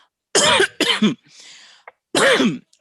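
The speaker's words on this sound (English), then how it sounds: "One is a cough." Two sharp coughs close to the mic, followed by a soft breathy exhale and a third harsh cough after a short pause.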